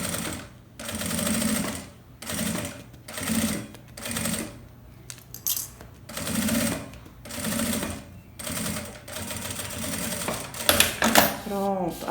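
Sewing machine stitching a zippered toiletry bag with polyamide thread in the needle and bobbin and a zipper foot, running in repeated short bursts of about a second with brief pauses, while someone talks over it.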